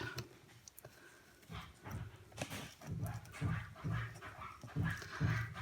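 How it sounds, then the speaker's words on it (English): A dog pants and moves nearby indoors, giving rhythmic huffing breaths and soft thumping sounds that grow more regular toward the end. "That's my dog, everyone."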